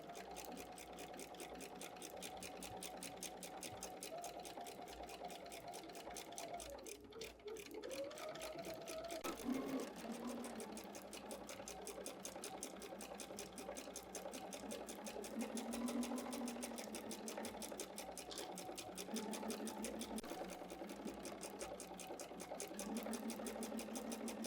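A sewing machine stitches quilt seams, a quiet fast rhythmic whirring and ticking that runs steadily, slowing briefly before resuming, with no talking.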